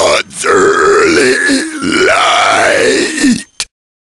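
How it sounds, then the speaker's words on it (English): A single long, drawn-out belch rumbles on for about three seconds, loud and close, then cuts off with a brief final grunt. "The source of all burps is, your stomach?"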